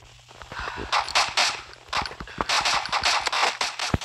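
Repeated gunshots from a weapon in the first-person shooter Bullet Force, coming in uneven short bursts of sharp cracks over a steady low hum, moderately loud throughout.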